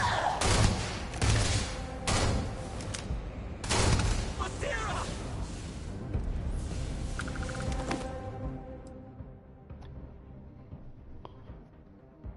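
Starfield gunfire erupts as several loud, sharp bursts in the first seconds, then trails off into fading combat noise and a lingering low hum, with a voice speaking partway through.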